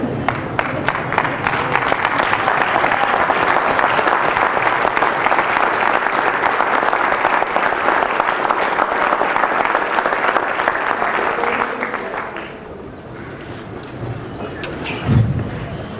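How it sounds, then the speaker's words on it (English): A room of school teachers and staff stands and claps for themselves: loud, dense, sustained applause for about twelve seconds, then it thins out and fades into quieter room noise. "I want you guys to all stand up and give yourself a round of applause."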